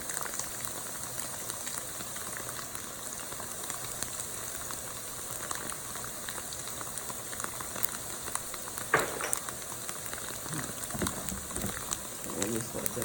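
Tofu sandwich filling cooking in a pan gives a steady, soft sizzle and bubbling hiss throughout, with a few brief clinks and a voice speaking lightly over it.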